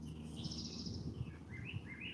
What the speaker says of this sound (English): We get to have a good time listening to the birds.